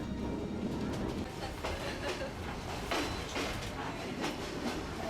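A moving train in Myanmar rumbles and clatters steadily at close range, with rhythmic rail clacks and creaks running through the whole stretch.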